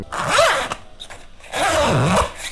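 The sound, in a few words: pencil case zipper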